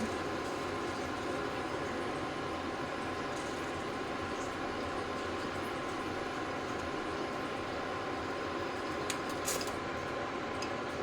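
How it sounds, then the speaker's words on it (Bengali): Potato pieces fry in a generous amount of hot oil for a Bengali radish kofta curry, giving a steady, even sizzling hiss that runs unbroken throughout with no voices. "প্রথমে আলুগুলো ভেজে নেব"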